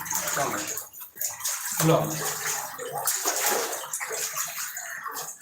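Floodwater rushing and sloshing in surges close by, a churning wash that rises and falls, with a voice briefly speaking over it.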